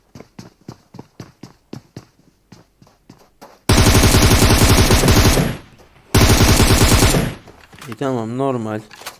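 Gunfire in a battle royale mobile shooter on the Livik map: a string of separate single shots, then two long loud bursts of rapid automatic fire, followed by a warbling game effect.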